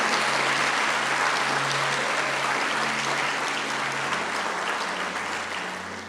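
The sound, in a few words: audience applauding in church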